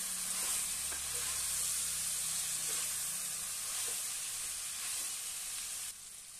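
Cauliflower curry sizzles and hisses in a hot pan after chili powder is added, with continuous frying crackle and a few soft scrapes of stirring throughout.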